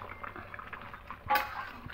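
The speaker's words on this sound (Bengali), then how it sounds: "ঝোলটা ফুটে এসেছে" A pot of fish-roe curry gravy simmers with a soft bubbling, liquid burble and a faint metallic clink of the pot, the whole sound low and close.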